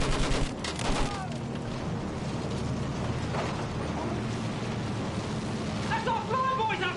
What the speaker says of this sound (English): Use that machine gun! Slow them down!